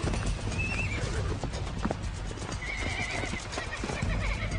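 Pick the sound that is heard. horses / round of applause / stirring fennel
horses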